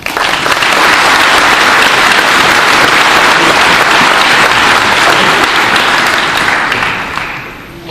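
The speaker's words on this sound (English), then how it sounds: "Please give him a round of applause." Audience applause fills a cadet graduation ceremony at the Appalachian Challenge Academy, dense steady clapping from a large crowd that holds for about seven seconds before tapering off at the end.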